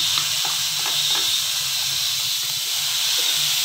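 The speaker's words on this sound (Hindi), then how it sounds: "अब देखिए मेरे टमाटर की प्याज जो है हल्का फ्राई हो गया और इसमें हम टमाटर को डालेंगे।" Chopped tomatoes go into lightly fried onions in a pan, a steady, close hissing sizzle with faint crackles that runs the whole time, with no voices.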